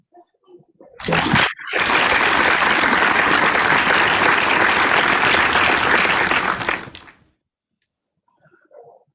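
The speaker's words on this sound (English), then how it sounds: "please give a huge round of applause to distinguished Toastmaster Ahmed Rizvi" Audience applause at a Toastmasters milestone meeting in Bahrain, a loud, dense burst of clapping lasting about five seconds after a brief sharp knock, then fading to near silence.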